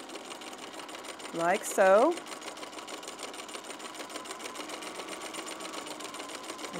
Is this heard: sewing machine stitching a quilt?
yes